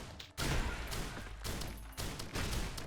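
Mortar rounds launch in quick succession during a dash in Risk of Rain Returns, producing several sharp thumping bursts separated by brief gaps, faint overall.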